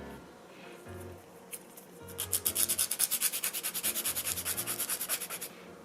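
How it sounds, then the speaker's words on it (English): A nail file rasps against an acrylic nail in quick, steady back-and-forth strokes, close and fairly quiet, after a few scattered scrapes at the start. "I'm just gonna go ahead and file at a 90-degree angle, like this"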